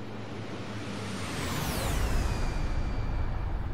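MiG-15Bis jet in flight in the DCS combat flight simulator, a broad steady rushing engine and airflow roar with a whine that sweeps downward in pitch, loud and continuous throughout.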